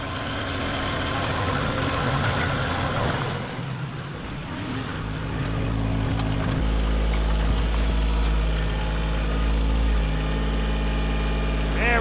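Kioti 25 horsepower tractor with backhoe digs, its diesel engine droning steadily and laboring under load, rising to a louder, steady roar partway through while someone talks over it.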